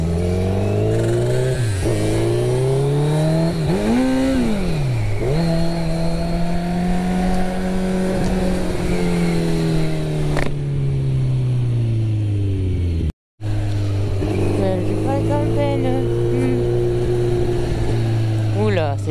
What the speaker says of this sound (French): Le bruit qu'il fait, c'est un truc de ouf. Pas mal, ta petite bécane.